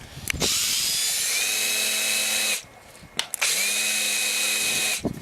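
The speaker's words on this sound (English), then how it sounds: "we're going to go ahead and countersink it" A power drill with a countersink bit whirs steadily in two long bursts with a short pause between, close and loud, with the pitch dipping slightly as the bit cuts into wood.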